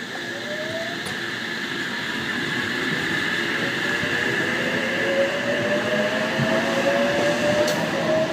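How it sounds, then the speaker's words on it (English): Sydney Trains electric train pulling away from the platform at Rooty Hill station, a steady close rumble with rising motor whine and faint wheel squeal throughout, no talk. "54 is now departing."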